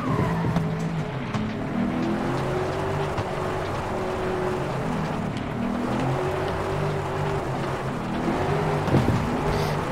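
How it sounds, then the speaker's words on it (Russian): Car drifting in FlatOut Ultimate Carnage, a rear-wheel-drive racer: steady loud engine drone with sliding tire noise and pitch sweeps running throughout, no talk. "Не заметил, как я дрифтую."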